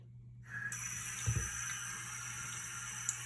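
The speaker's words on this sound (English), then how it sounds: "See how the water easily slides off, not soaking into the shoe, just bouncing off?" Water is poured onto a shoe treated with Crep Protect, a faint onset followed by a steady close pouring and splashing, with a couple of brief splatters.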